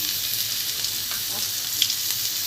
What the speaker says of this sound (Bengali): ফোড়নটা হয়ে গেছে এখানে রসুন দিয়ে দেবো